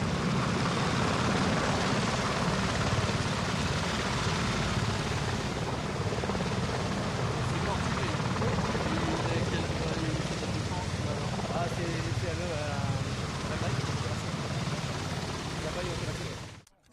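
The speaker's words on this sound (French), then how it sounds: "cet hélicoptère portugais qui se trouve juste derrière nous" Portuguese military helicopter arriving at an air show, a sustained loud rotor thrum and engine roar holding steady throughout, with a voice talking over it.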